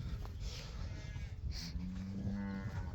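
An older cow close to calving moos on a farm, a single drawn-out, fairly quiet low call against steady outdoor background noise.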